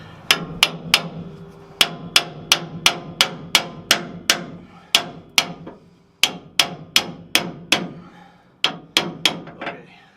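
Steady hammer blows drive a leaf spring forward to seat it during a cheap temporary repair of a broken spring. The blows come as sharp metallic strikes in quick bursts of several hits, close up and loud, with short pauses between the runs.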